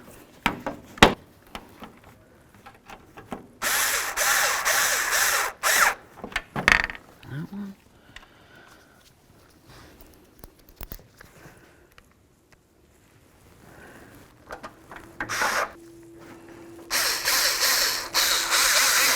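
A ratchet or power tool runs in several short, loud bursts as bolts are tightened on the reflector of a 1992-99 GMC K1500 pickup. Quiet handling clatter fills the gaps between bursts.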